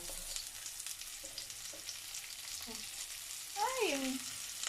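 Onions frying in a pan with browned garlic, a steady close sizzle with light stirring, and a brief voiced sound over the frying near the end.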